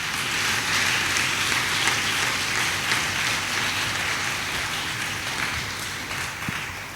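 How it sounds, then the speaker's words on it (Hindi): A church congregation claps loudly together as an offering of praise, a dense, steady wash of many hands that holds for several seconds and fades slightly at the end. "जोरदार तालियां बजाकर प्रभु को महिमा दे।"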